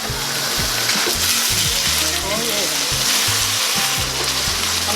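Chicken stir fry sizzles loudly in a pan, a dense continuous frying hiss up close with occasional stirring scrapes, steady throughout and with no talk over it.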